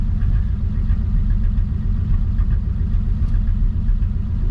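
A 1940 Mercury engine that has sat unused for a long time runs with a steady low rumble and an uneven, stumbling misfire pulse, close and loud, with no one talking.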